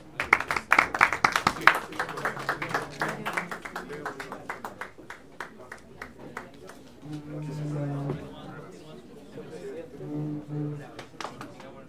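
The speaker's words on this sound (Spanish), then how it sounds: "Le damos un aplauso." A room of people applauds during a session of a constitution, legislation and justice committee. The clapping is loudest at the start, thins into scattered claps, and is then overtaken by talking voices.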